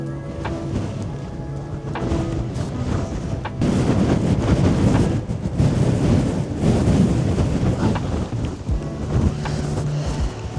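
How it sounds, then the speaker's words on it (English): Strong gusts buffet an outdoor microphone during a windy photography outing in Manchester, a steady low roar that swells louder midway and stays dense with rumble throughout, with no speech. "It's too windy."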